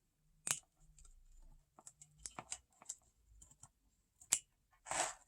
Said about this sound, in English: you can just cut it off right there on the edge to match your hoop